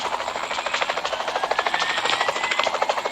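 A PUBG Mobile helicopter whirs steadily, its rotor chopping in a fast, even pulse at moderate volume with no talking.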